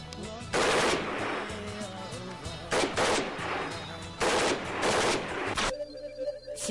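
Machines guns fire during quality-control test firing in Pakistan, with loud rapid bursts of automatic gunfire repeating in several close, sustained volleys that then give way to quieter background sound.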